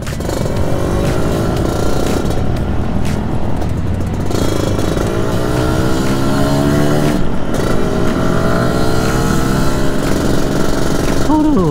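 A 1991 Yamaha RXZ motorcycle with an expansion-chamber header idles and revs loudly up close, its two-stroke engine and exhaust rising and falling in pitch with a few sharp throttle blips, continuous through the whole stretch.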